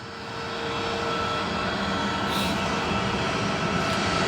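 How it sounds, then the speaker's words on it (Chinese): An Airbus A320's engines roar at an airport in China, the broad steady jet rumble swelling over the first second and then holding loud and even, with no voices. "这架飞机是一架我们的空客的 A320啊"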